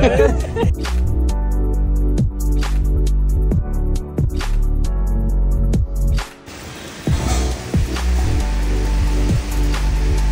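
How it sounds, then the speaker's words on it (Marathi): Loud, heavy monsoon rain drumming steadily on a hard surface close by in Tamhini Ghat, dense and unbroken, with a brief dip partway through. "अरे पाऊस बेकार लागतोय"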